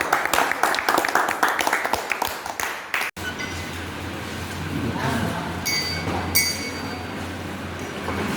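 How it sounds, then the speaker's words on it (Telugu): An audience claps loudly at a school science demonstration of a Wheatstone bridge built with bulbs. A dense, steady wash of applause follows a few seconds of brief talk and sharp knocks. "గట్టి క్లాప్స్ కొట్టండి."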